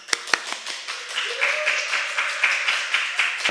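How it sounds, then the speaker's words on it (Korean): A few sharp claps open, then a sustained tone with light rhythmic patting follows as a lecturer is welcomed at a church talk; the applause is thin and fairly close. "큰 박수로 귀한 교수님 모시겠습니다."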